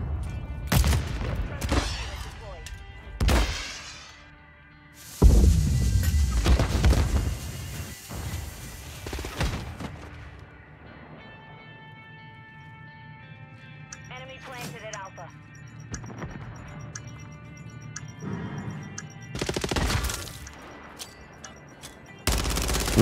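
Rapid bursts of 9mm gunfire from an ISO submachine gun in a first-person shooter game, loud and repeated in several clusters, mixed with other in-game shots and impacts while players talk.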